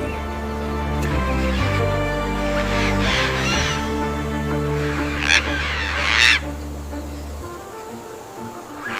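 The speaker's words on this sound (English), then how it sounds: "Eclectus parrots sip sweet eucalyptus nectar as the hills glow" Several harsh, raucous parrot squawks ring out at intervals over a low, sustained musical drone, fairly near and moderately loud.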